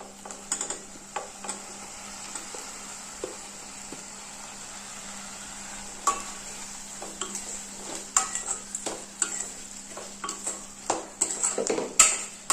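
Two chopped medium-sized tomatoes are stirred and sautéed in a pan for a drumstick egg curry, with faint sizzling under repeated light scrapes and clinks of a spoon against the pan, and no talking.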